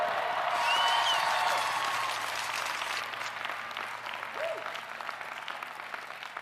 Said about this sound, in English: get a round of applause for our first generation graduates?